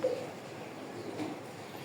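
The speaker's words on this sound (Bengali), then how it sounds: "এখানে এক পেয়ার কবুতর দেখতে পারতেছেন।" Racing pigeons at a loft cooing, a faint low murmuring coo under quiet background hiss for a short moment.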